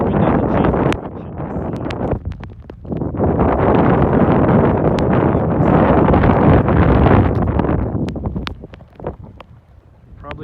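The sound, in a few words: strong blizzard wind blowing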